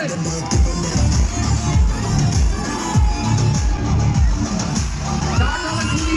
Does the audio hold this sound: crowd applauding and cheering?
yes